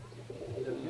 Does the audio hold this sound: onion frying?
no